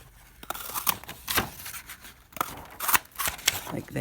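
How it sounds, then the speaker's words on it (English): A paper punch presses butterfly shapes out of sheets of colored paper, giving several crisp snapping clicks at uneven intervals with paper rustling between them, close and moderately loud. "I'm just going to go ahead and just punch a couple of butterflies"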